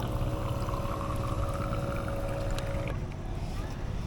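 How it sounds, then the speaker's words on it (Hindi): Water pours steadily while bottles are refilled at a highway stop, a continuous gushing and gurgling with a rising tone as the bottle fills, then a shift as the flow changes near the end. "उससे पहले बॉटल्स वगैरह रिफ़िल कर रहे हैं"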